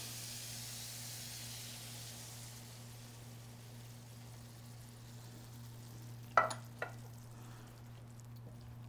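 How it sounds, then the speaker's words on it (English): Crushed tomatoes go into a hot pan for shakshuka, giving a low, steady sizzling hiss over a faint electrical hum, broken near the end by two sharp clinks of a utensil against the pan. "Then we're going to add in our crushed tomatoes."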